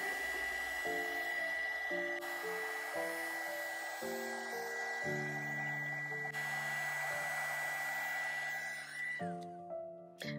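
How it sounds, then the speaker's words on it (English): A heat tool warms Pentart moss and grass effect paste with a steady, loud blowing hiss that runs for about nine seconds, with background music underneath, and then cuts off near the end. "I find it works best to apply the heat, move it away for a few seconds, and then come back to that spot"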